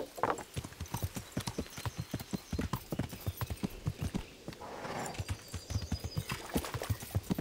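Rapid, rhythmic hoofbeats of a galloping horse in the video game Kingdom Come: Deliverance, steady and close, with a brief snort or whinny partway through.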